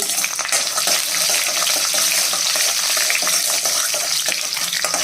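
Red chillies, cumin and split urad dal fry in oil in a pan, giving a steady, close crackling sizzle with no pauses.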